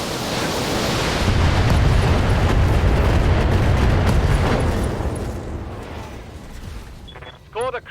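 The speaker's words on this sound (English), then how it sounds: "Firing all weapons." Mech weapons fire and explosions in Battletech erupt as a dense, roaring wash of noise that swells for several seconds and then slowly tails off, followed by a brief burst of warbling electronic tones at the end.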